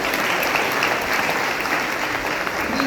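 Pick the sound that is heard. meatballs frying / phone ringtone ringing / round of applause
round of applause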